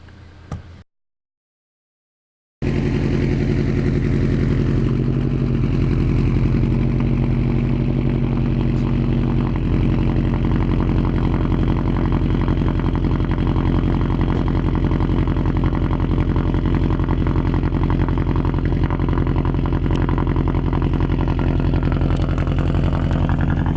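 A 2008 Subaru WRX hatchback with an Invidia Q300 turbo-back exhaust idles from a cold start, giving a loud, steady, close engine drone with a deep rumble that holds evenly after a short quiet gap at the beginning.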